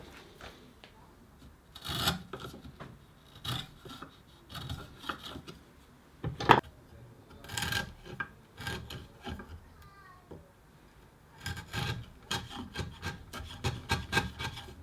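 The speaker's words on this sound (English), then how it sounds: "Then I cleaned up the grooves a bit with a chisel," Hand chisel paring and cleaning up grooves cut in wood, producing short scraping, rubbing strokes in irregular bursts, close and fairly quiet, with brief pauses between cuts.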